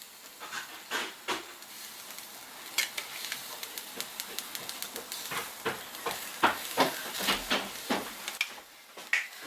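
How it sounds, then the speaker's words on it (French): Three tablespoons of ghee sizzle in a hot pan, a steady fine crackle broken by frequent sharp spits and pops that grow busier toward the end, close and moderately loud with no voices. "Ma poêle est chaude, j'ajoute 3 cuillères à soupe de ghee."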